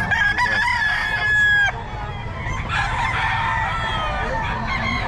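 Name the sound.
roosters crowing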